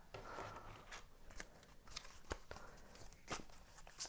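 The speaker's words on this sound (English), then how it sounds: "I'm gonna shuffle some more cards" Tarot cards being shuffled close by, soft papery riffles and sharp flicking snaps at irregular intervals, quiet and without talk.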